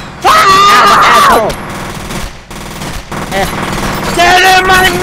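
Loud automatic gunfire in the video game F.E.A.R., with rapid sustained bursts of shots, a break, then more firing, all close and dominating, alongside game sound effects.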